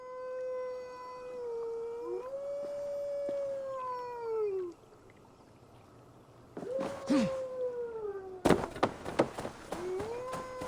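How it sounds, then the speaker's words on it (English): Wolves howl in the video game Assassin's Creed Valhalla, with long rising and falling howls that overlap. After a quiet gap, more howls come with sharp in-game effects. "Why are there still wolves howling?"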